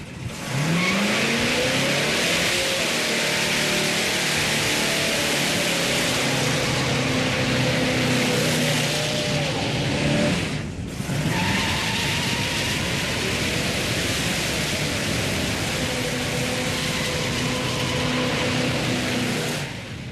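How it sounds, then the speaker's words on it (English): A car engine roars steadily at high revs for the whole stretch with a hissing, noisy wash of tire spin, briefly dipping once midway before resuming. "This thing does a great burnout."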